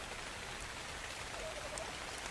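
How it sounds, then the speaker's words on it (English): Steady rain falling in the survival game Ark Survival Evolved, a constant even hiss of drops with no voices over it. "Rain coming."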